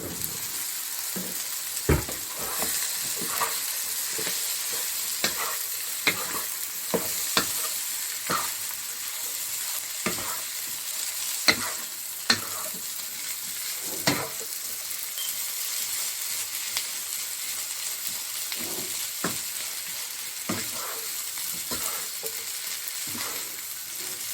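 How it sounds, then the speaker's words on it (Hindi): Potatoes frying in a spiced masala for samosa filling, a steady loud sizzle with frequent scraping stirs and clacks of a spoon against the pan, no talking. "अब इसमें हम आलू डालेंगे।"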